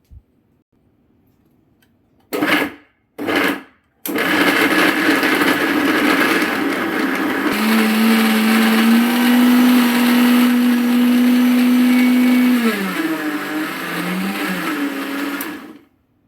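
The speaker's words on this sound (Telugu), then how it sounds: "ఇదంతా గ్రైండ్ చేసుకుందాం ఇప్పుడు." A mixer grinder whirs loudly as it blends jaggery, condensed milk and cocoa powder for homemade chocolate. Two short pulses come first, then a long continuous run whose pitch shifts as the mix thickens, before it stops.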